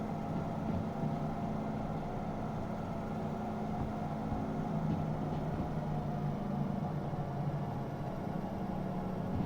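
A locomotive diesel engine running at max revs in the train game Derail Valley, a steady loud droning rumble held without a break, with no talk over it.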